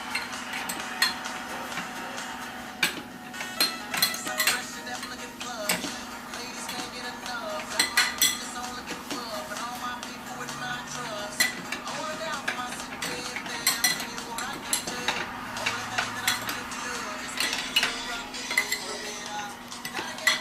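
Rice with food coloring is stirred in a pot, giving repeated clinks and scrapes of a utensil against the metal, close and irregular over a low steady hum.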